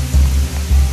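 Pouring rain in a bamboo forest on Maui, Hawaii, a steady loud wash of water with low rumbling surges, heard alone without voices.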